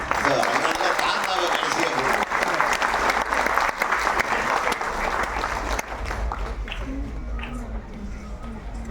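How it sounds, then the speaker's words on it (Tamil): A crowd at a Tamil film event applauds loudly and continuously for several seconds, then the clapping thins out as a voice and a low background hum take over. "கொள்ளு பேருக்கு ஒரு கைத்தட்டு"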